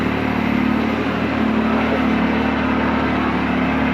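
A Yamaha YXZ side-by-side engine with a free air box mod idles loudly and steadily with a slightly rattly hum, close to the listener.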